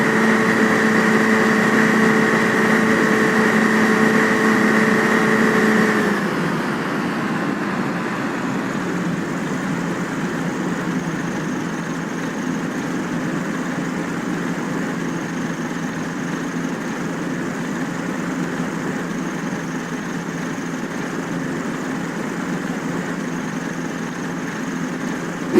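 A simulated aircraft engine in Flight Simulator X hums loudly and steadily, then drops to a lower, quieter drone at about six seconds as the throttle is reduced, with no talk.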